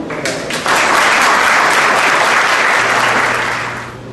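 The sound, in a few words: audience applause welcoming lecturer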